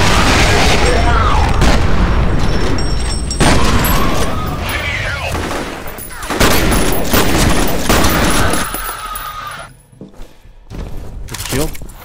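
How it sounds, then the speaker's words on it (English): A grenade explodes amid gunfire in the shooter game F.E.A.R., loud booms and rapid bursts of shots over several seconds, with a person talking over the action before a brief drop in noise near the end. "I think he threw a grenade."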